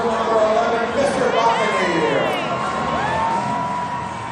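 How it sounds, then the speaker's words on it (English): Outdoor Krewe of Bacchus Carnival parade crowd cheering and shouting in a loud continuous roar, with voices whooping and calling out and people talking amid the din. "Another round of applause."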